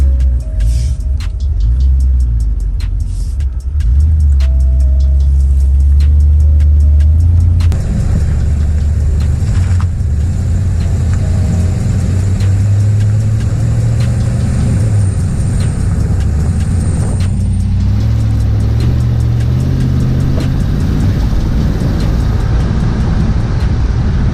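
A 1992 Camaro Z28 with a sticking left brake caliper drives around the block, its engine a loud, steady drone heard from inside the car, rising and falling in pitch as it accelerates and eases off, with no talk.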